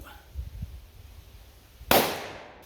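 .357 Magnum XTP hollow point round fired from a Taurus 66 revolver: a single sharp, loud gunshot crack with a brief decaying tail, following a stretch of quiet low rumble.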